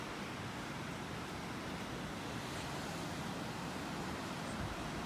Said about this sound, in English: Looks like we got some waves out here this morning.